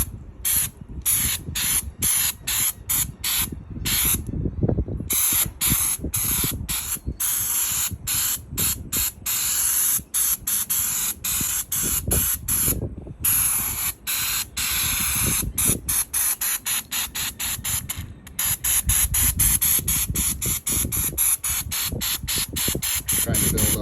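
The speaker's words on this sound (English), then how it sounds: "I'm going to take the spray" An aerosol spray can hisses in repeated bursts of a few seconds each, broken by short pauses, while paint goes onto a boat name plate. The bursts are close and steady, with a low hum behind them.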